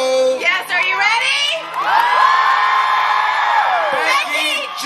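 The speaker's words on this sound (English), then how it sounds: "give her a big round of applause and a big hello" A concert crowd at Fiesta De La Flor erupts in loud, sustained cheering, whoops and shouts as a performer is introduced, swelling for several seconds before easing off, with a voice speaking briefly at the start.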